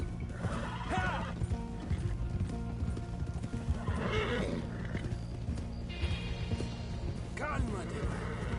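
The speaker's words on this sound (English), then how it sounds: "Hey, control that horse!" Horses in Red Dead Redemption 2 whinny and neigh several times over steady hoof clip-clop, with game ambience and talk mixed in throughout.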